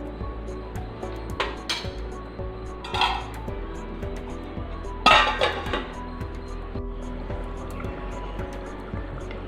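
A pot lid and metal cookware clink and clatter a few times over a steady low kitchen hum while prawn and brinjal kurma simmers, one sharper clank standing out.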